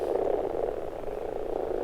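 Common frogs call at a spawning pond at the forest edge, a steady low chorus of soft overlapping croaks running throughout at moderate distance with no pauses.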